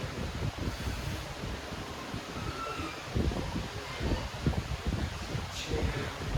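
Gusty air from an electric fan buffets the microphone in uneven low rumbles and thumps, a steady blast with no talking.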